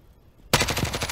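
Automatic gunfire in Call of Duty: Warzone breaks out suddenly after a quiet moment, a loud, close, rapid burst of rattling shots.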